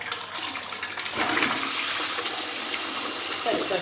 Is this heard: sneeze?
no